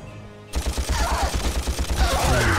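After a brief quiet moment, a blaster in the Ratchet & Clank video game fires a rapid, rhythmic string of loud shots that continues steadily to the end.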